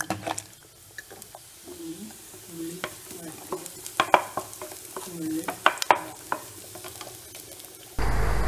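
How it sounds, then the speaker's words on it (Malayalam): Onions fry in a pan for a drumstick-leaf sambar, with scattered scraping stirs and soft sizzling through a quiet kitchen, ending in a louder steady hiss. "ഇപ്പോഴാണ് ആദ്യം ചേർക്കാൻ മറന്നു പോയ ഉള്ളിവ ഇട്ട് വറുക്കുന്നത്."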